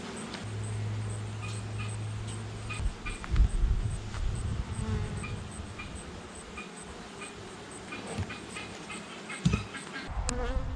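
Honeybees buzz steadily during a beehive inspection, a continuous low hum running throughout with occasional louder swells close by and small handling knocks.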